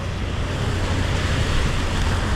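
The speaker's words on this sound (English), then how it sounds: "the rain is blowing like 360-degree directions" Wind-driven rain whipping from every direction during a storm makes a dense, unbroken roar that stays close and loud and never lets up.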